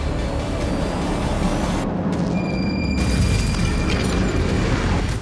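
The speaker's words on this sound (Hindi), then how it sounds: "ये यमन की राजधानी सना पर हुए हमले का वीडियो है, जिसमें एयर स्ट्राइक की आवाज साफ सुनी जा सकती है।" Air strikes hit Sanaa, Yemen, as a continuous heavy rumbling roar with a few dull booms and blasts, dense and loud throughout, without voices.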